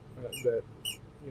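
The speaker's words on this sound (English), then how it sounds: "that is my dog playing with her squeaky toy raccoon." A dog plays with a squeaky toy raccoon nearby, giving a few short, high squeaks spaced apart over a low background hum.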